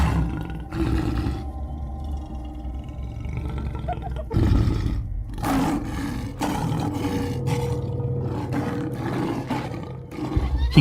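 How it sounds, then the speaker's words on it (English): A wounded lion, surrounded during a fierce predator-versus-prey clash in the African wild, lets out loud, deep, sustained roars one after another, rumbling and close with barely a pause between them. "Surrounded and bleeding, the lion refuses to fall. Each roar shakes the air like thunder."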